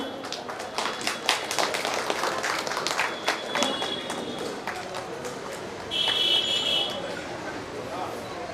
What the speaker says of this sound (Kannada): ನಿಮ್ಮೆಲ್ಲರ ಜೋರು ಚಪ್ಪಾಳೆ ಬೇಕು